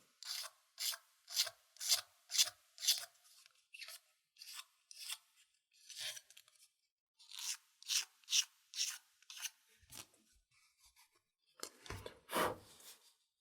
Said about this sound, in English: take the blade and pull it really over the whole thing, and scrape here over the side